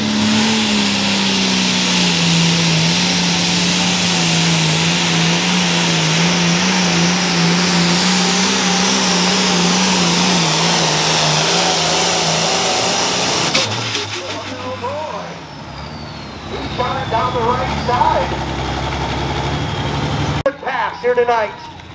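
A John Deere 4320 tractor revs hard at a tractor pull in Wisconsin: a loud, sustained engine roar that holds for about thirteen seconds, then cuts off abruptly, followed by scattered crowd noise and voices.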